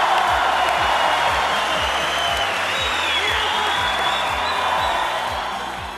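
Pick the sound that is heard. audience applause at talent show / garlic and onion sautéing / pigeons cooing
audience applause at talent show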